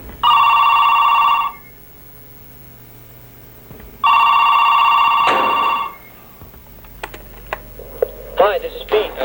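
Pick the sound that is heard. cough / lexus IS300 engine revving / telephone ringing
telephone ringing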